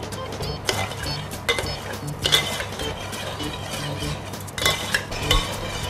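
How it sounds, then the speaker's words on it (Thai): Rice being rinsed by hand in a pot of water, with repeated swishing, stirring and grainy rubbing that comes close and clear, plus occasional louder sloshes and light clinks of grains against the pot. "ซาวข้าวครับ"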